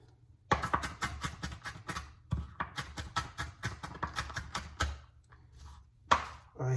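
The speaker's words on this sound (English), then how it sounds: "So I'm chopping these onions over here." A knife chopping onions rapidly on a cutting board, a fast rhythmic series of close, sharp thuds with a few brief pauses.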